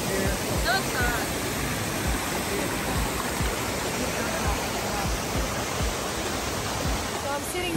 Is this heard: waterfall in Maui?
yes